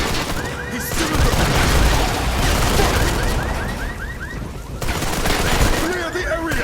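Rapid gunfire and heavy booms fill a Modern Combat 5 video game battle, dense and continuous throughout, with shouted voices mixed in amid the chaos.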